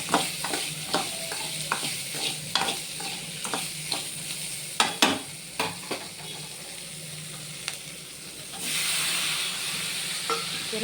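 Cabbage chutney with tamarind and salt is stirred in a hot pan, giving repeated scraping strokes over a constant sizzle that swells into a louder hiss toward the end.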